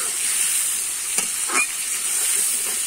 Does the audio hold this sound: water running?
no